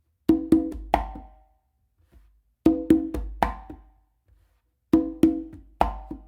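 Congas struck in three matching phrases, each two ringing open tones followed by a quick fill of sharp slaps, close and clear with short pauses between, played with no talking.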